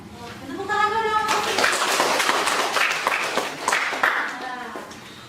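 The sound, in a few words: classroom clapping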